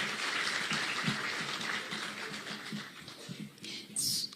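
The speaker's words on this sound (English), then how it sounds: "Let's give another round of applause to our panelists." Audience applause for panelists at a KICC event in Nairobi, fairly soft and scattered clapping with murmured voices underneath throughout.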